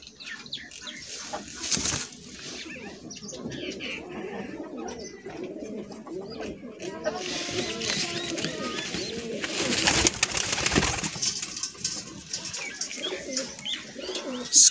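Teddy pigeons, including a 35-type female from a friend's breed, coo softly in a loft, with wing flaps and bird calls mixed in and steady background noise throughout.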